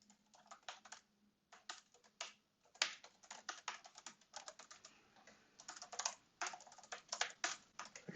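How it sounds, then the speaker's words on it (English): Rapid, uneven tapping on a computer keyboard, with bursts of light key clicks and short pauses, close up and fairly quiet. "I'm so bad at typing."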